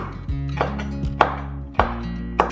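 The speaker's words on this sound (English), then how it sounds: "Now cut some red chilies." A knife chops red chilies on a cutting board in four or five spaced, firm knocks, each with a short ringing tail, close and clear with no voices.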